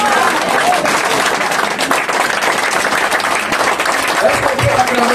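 A church congregation claps and cheers in dense, sustained applause, loud and close, with voices mixed into the crowd noise throughout.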